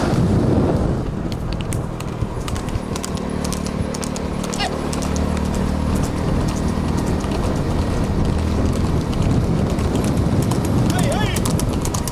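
Hooves beat fast and steadily as horses race in a live horse race event at Kumbakkudi, loud and continuous. A crowd roars and an announcer calls excitedly over the pounding.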